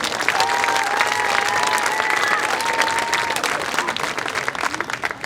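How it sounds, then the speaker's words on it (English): A crowd at a marching band's parent event gives steady, full applause lasting several seconds and fading slightly at the end, while a faint voice murmurs beneath the clapping. "Let's give them all a round of applause."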